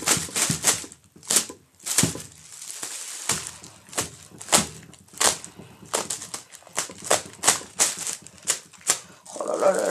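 A pack of Magiciens du Feu trading cards being torn open and rummaged through, a series of sharp crinkling, rustling bursts in an uneven rhythm, close and fairly loud, with a voice talking between them.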